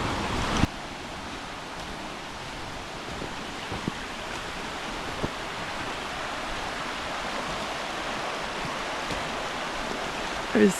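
A low river runs through mossy Dartmoor woodland, its steady broadband rush continuous and close throughout, with only a few small knocks and clicks on top.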